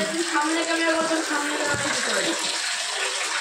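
Water pours steadily from a tap while hair is rinsed after a henna treatment, a continuous rushing splash at moderate level, with a voice talking briefly.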